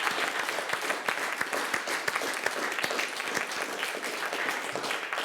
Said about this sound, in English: will you just join me in a round of applause for all the effort put in by the speakers?